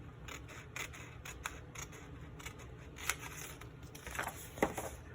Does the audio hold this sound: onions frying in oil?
no